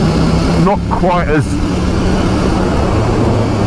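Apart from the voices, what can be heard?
KTM 890 Duke GP motorcycle engine while riding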